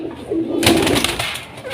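A domestic pigeon from a red breeding pair gives one short, close coo lasting about a second, with faint rustling around it.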